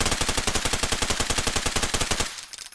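A FAS weapon in Garry's Mod fires a rapid, loud automatic burst of evenly spaced shots lasting about two seconds, then stops abruptly, leaving a brief faint tail.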